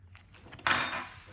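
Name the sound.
fancy cutlery spoons being handled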